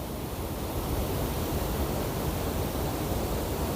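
Blue water dropping off a cliff as a waterfall on a mountain plateau, a steady broadband roar, loud and unbroken with no talking.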